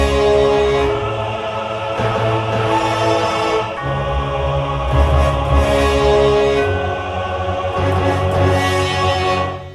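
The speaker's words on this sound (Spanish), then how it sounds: "en la segunda octava tengo cornos y timbal sinfónico para hacer esta respuesta" A keyboard plays orchestral horns with symphonic timpani answering in a chorus, full and sustained with swelling low rolls and continuous brassy tones throughout.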